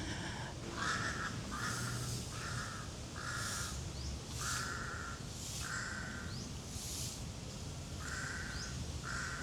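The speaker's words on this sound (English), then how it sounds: "how he sounds, if that's a raven or a crow" Repeated harsh caws from a crow or raven in Benjakitti Park, about eight calls in a steady rhythm at moderate distance over constant outdoor background hiss, with faint chirps from other birds.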